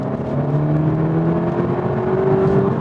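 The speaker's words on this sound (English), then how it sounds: "It sounds like the engine is actually producing that noise." A VW T-Roc R engine accelerating hard, a loud, close, smooth rising drone that climbs steadily in pitch through the gears without a break.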